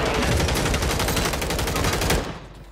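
Rapid automatic gunfire in the Call of Duty Warzone video game on Rebirth Island, loud and close, a dense unbroken burst of shots that cuts off abruptly near the end.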